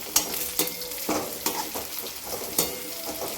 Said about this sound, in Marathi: याच्यामध्ये आता आपण शेंगदाणे पण टाकून घ्यायचे. ते पण छान असे परतून घ्यायचे.